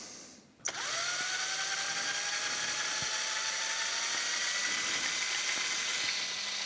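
An electric drill motor, run on 50 volts in a hybrid and EV regenerative braking demonstration, whirs up abruptly and then holds a steady, high-pitched whine close by, with a few faint clicks beneath it.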